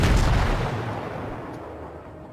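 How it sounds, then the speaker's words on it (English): A heavy naval 139mm cannon blast in World of Warships booms at the start, then rumbles and decays slowly over the next couple of seconds, with no voices. "139mm cannons"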